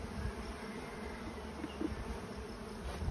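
Honey bees hum around thriving beehive colonies, a low continuous buzzing drone with faint passing individual insects, fairly quiet and steady with no voices.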